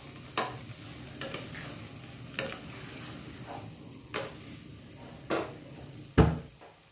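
Puran filling, a thick cooked lentil-and-jaggery paste, being stirred and turned in a pan on the stove, giving a series of soft scraping knocks about every second, close and moderately quiet with a faint sizzle underneath.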